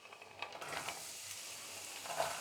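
Chopped onions and celery hit a pan coated with olive oil, giving a soft steady sizzle with faint stirring scrapes, quiet and with no voices.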